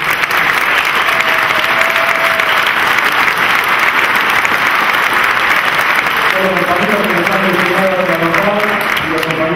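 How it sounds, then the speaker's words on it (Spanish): Sustained applause from a crowd at a ceremony presenting medals to workers for 25 years of service, loud, dense and steady clapping that fills the whole stretch without a break. "así que para ellos pido un fuerte aplauso"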